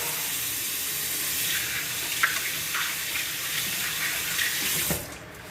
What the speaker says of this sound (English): So, wash my hands a little bit.